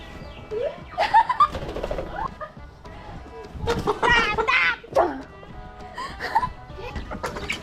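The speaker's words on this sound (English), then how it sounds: "Look at the chicken." Farm chickens cluck and squawk in short, loud bursts close by, mixed with people talking and moving around while one bird is caught by hand.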